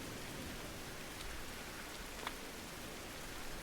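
Rain falls steadily in the survival game Fountain of Youth, a soft, even hiss of drops with wind chill, with a couple of brief brighter patters standing out near the middle.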